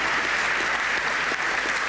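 An audience applauds at a University of Manchester graduation ceremony in 1995, with a steady, dense wash of many hands clapping from a large hall crowd throughout.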